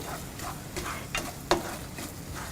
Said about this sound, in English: Mix sugar into the grated carrots and saute for 4 to 6 minutes on medium flame.